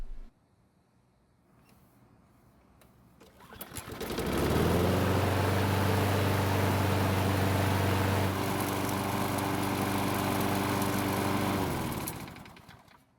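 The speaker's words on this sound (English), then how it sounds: "So luckily the engine started and ran" A Craftsman riding mower with a swapped-in engine cranks and fires after a few quiet seconds, then settles into a steady, loud, close running drone with a slight shift partway through before cutting off near the end.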